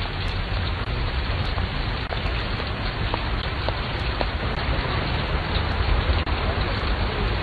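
Steady rain falls continuously, a dense even hiss of drops on a surface with faint scattered drips, with no talk.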